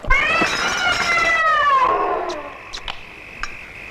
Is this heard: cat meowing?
yes